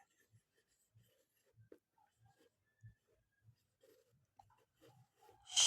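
A pen scratches on paper while Bengali compound letters are written out, giving soft, close, irregular strokes and taps in short bursts that get a little louder at the end.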